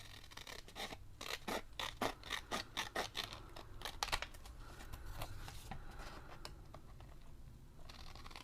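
Scissors cut through paper card for a gift card holder, a series of close, crisp snips and scrapes in irregular bursts, fairly quiet with no talking.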